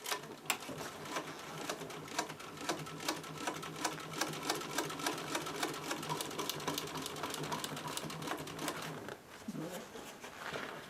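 Sewing machine stitching across a welt on vintage bucket seat upholstery, a rapid steady needle clatter running for most of the time, close and fairly loud, before stopping near the end.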